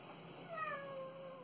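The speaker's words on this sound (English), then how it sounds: "This is my cat." A pet cat gives one drawn-out meow that rises and then slowly falls, close and fairly clear over a quiet room.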